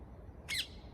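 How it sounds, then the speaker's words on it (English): A single short bird squawk rings out clearly over a quiet morning background on a London rooftop, lasting only a moment. "You can hear the birds."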